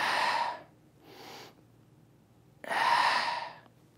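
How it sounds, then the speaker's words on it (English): Breathing through the nose during a chest-stretching exercise: two slow audible breaths up close, one longer and one shorter, separated by quiet. "Try breathing through your nose as well."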